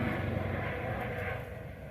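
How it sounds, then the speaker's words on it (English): A Coast Guard helicopter passes overhead above a vineyard during grape harvest, a steady broad rotor and engine drone that fills the short span and eases slightly toward the end. "Here comes a Coast Guard helicopter."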